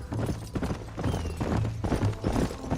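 Horse hooves galloping hard in Red Dead Redemption on Xbox 360, a steady rapid clip-clop close up and loud, with harness rattle and no talking.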